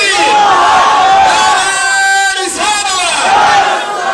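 A large crowd at a religious gathering roars its response to a takbir call, a loud sustained mass chant of many voices close and filling, dipping briefly midway before rising again.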